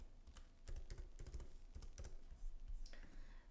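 Typing on a computer keyboard while entering a username and password, a steady run of close, crisp key clicks in uneven bursts with no talking.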